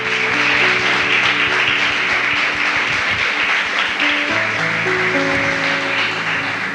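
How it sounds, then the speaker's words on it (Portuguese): A church congregation claps in steady rhythm under loud worship music, the applause rhythmic and energetic throughout, with no clear speech. "Vamos aplaudir o Senhor com alegria,"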